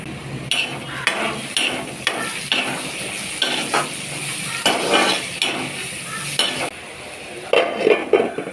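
A spoon stirs bitter gourd curry in a pan in repeated scraping strokes over a constant frying sizzle, with occasional metallic knocks against the pan.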